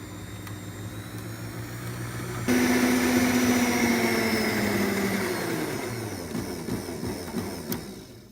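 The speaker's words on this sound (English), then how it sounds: "in another bowl with clean beaters, we're going to whisk the egg whites until they hold stiff peaks" An electric mixer whisks egg whites in a clean bowl toward stiff peaks, giving a steady motor whine that jumps louder as the beaters speed up and then drones on with a slowly falling pitch.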